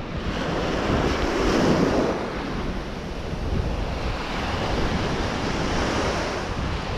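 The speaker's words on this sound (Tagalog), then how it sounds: "So the weather, the wind, I like the wind. It's not so rough, and then the waves also is not so rough." Ocean surf and steady wind at a fishing spot on Guam, a continuous broadband wash of breaking waves with wind rumble buffeting the microphone, loudest in the first two seconds and steady throughout, no talking.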